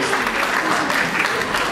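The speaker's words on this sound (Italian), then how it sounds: "ancora un applauso" Audience applause at a live Italian stage event, a steady dense wash of clapping filling the whole moment at close range with no voices over it.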